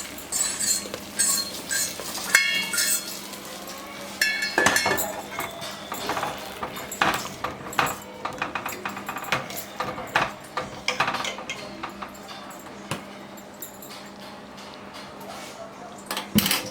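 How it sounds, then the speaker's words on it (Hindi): A spoon stirs fried pakoras into kadhi in a metal pot, with repeated clinks and scrapes against the pot in an uneven rhythm, close by, mixed with faint background chatter. "कढ़ी में डालने के बाद इसको अच्छे से कढ़ी में मिक्स कर दीजिए।"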